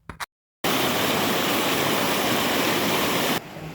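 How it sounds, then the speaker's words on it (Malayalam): A small waterfall beside a stream gives a loud, close, continuous rushing roar of falling water that starts abruptly after a brief gap and holds steady to the end, with no voices. "ഇവിടെ വെള്ളച്ചാട്ടമുണ്ട് കേട്ടോ"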